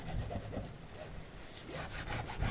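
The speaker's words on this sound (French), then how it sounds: "On prend la lissette. On lisse le bas et on remonte." A hand roller smooths a glued patch on an inflatable Zodiac-type boat, producing quick, rhythmic rubbing and scraping strokes at close range, steady and moderately quiet.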